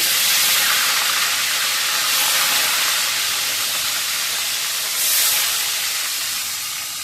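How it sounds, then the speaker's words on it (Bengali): Fish rubbed with salt and turmeric frying in hot oil, a loud, continuous close hiss that swells slightly now and then, no talking. "মাছগুলো ভেজে নেব"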